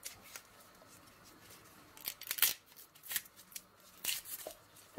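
Knife peeling the fresh stem of an artichoke in a kitchen: faint, sparse scraping and crisp rasping strokes come in short bursts against a quiet background.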